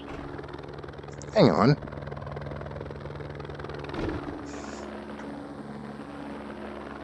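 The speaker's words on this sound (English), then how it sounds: "There's a fucking helicopter following me, huh?" A helicopter in the racing game Project Cars 2 drones steadily with a low, even rotor hum through the whole stretch, while someone speaks briefly over it.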